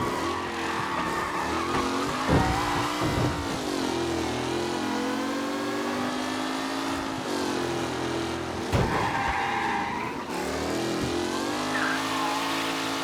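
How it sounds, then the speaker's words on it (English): Race cars in the Mafia Definitive Edition video game roar and rev continuously, with engine pitch rising and falling and occasional tyre skids, loud and close throughout. "What a race today, folks. The driving's been incredible."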